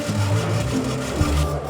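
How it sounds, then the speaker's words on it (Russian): A hand fretsaw cuts wood in a design classroom, making a steady, continuous rasping stroke up close, loud and alone with no talk. "Аудитория, где проходит урок по выпиливанию лобзиком."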